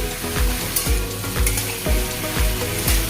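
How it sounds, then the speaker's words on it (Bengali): Onions and cauliflower with turmeric and salt fry in hot oil for a milky cauliflower dish, a loud, close sizzle broken by regular scraping strokes of a spoon stirring the pan about twice a second, with no talk. "এবার একটু নাড়িয়ে দিচ্ছি"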